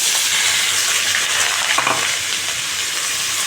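Sliced onion hitting hot oil with cardamom, cinnamon and three cloves, sizzling loudly and steadily with a brief stirring scrape partway through and no voice.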